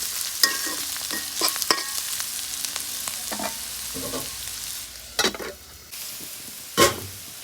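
Food fries with a steady sizzle in a pan while a spatula stirs it, giving scattered scraping clicks and louder scrapes near the end; the onion and green chilies are held back for later.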